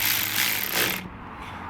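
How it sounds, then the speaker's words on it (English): A ratchet wrench tightens a bolt on a Stihl FS55R string trimmer in a short, dense burst of rapid clicking that stops abruptly partway through, leaving near quiet. "This ratchet is 35 foot-pounds, which is a lot"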